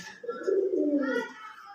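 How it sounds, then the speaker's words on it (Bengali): A pigeon coos softly and close by, one throaty rolling coo with no talk over it. "তো এই হচ্ছে কবুতরটা"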